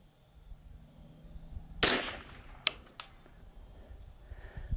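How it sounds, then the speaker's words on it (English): A single sharp report from a semi-automatic .22LR rifle fired from a bench rest at long range, a loud crack at about two seconds followed by fainter pops, with outdoor ambience and no talking. "We are shooting the Ely semi-auto bench rest out of this."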